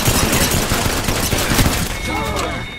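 Dense, loud bursts of automatic gunfire in the Apex Legends battle royale game, rattling rapidly up close before thinning out near the end, with game voice chatter mixed in.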